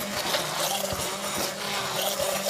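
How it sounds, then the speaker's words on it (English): A kitchen blender runs steadily, churning salsa with coarsely chopped onion and garlic, a loud continuous whirring motor with a rough, grinding texture throughout, close and without talk. "Make sure that all that onion and garlic that I coarsely chopped gets blended in so nobody gets a big chunk of garlic in their mouth."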